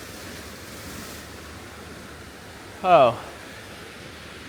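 Ocean surf on the California coast, a steady broad wash of waves with wind, far and even, interrupted once by a short exclaimed voice.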